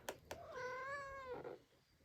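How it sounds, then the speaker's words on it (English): A pet cat named Godric gives a single drawn-out meow, close and clear, preceded by a couple of sharp clicks, with a quiet room behind it and no talk. "I have a cat trying to climb at me."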